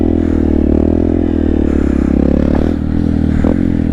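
A Honda Grom motorcycle revs for a clutch-up wheelie, its small engine droning steadily with a brief dip and rise near the end, close and loud with no talk.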